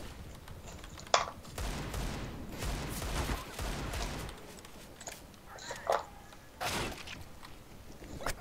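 Gunfire in a video game during a live stream: single sharp shots and bursts of rapid fire, interspersed with quieter movement sounds, moderately loud.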